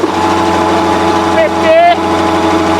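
A Chieftain tank TN12 gearbox runs in fifth gear on a test, giving a steady droning hum with whining tonal lines, while someone speaks briefly over it.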